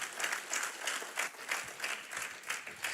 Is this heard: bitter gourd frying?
no